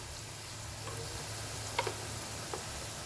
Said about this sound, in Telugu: హై ఫ్లేమ్లోనే ఇవన్నీ మంచిగా ఫ్రై చేసుకోవాలండి